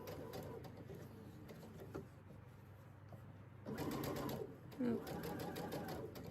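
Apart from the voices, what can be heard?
sewing machine stitching fabric along a curve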